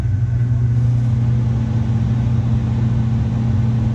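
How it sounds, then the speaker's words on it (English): A Lennox furnace blower runs with a loud, steady, deep motor hum and airy rush that holds even throughout, with no voices. "we're gonna turn the power on. Our blower is supposed to start"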